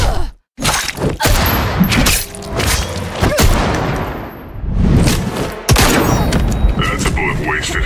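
Gunfire from Deadshot in the Injustice 2 fighting video game, loud bursts of shots and heavy impacts in quick succession mixed with thuds and crashes, with a short silent gap near the start.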